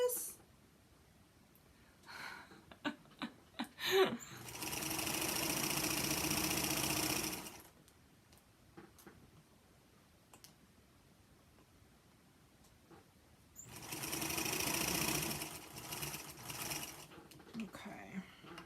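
A Singer Featherweight sewing machine stitches through thick layers of fabric in two steady motor-driven runs of a few seconds each, separated by quiet handling clicks and soft speech.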